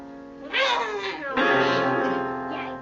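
A voice imitates an angry cat, a drawn-out rising and falling yowl, close and alone.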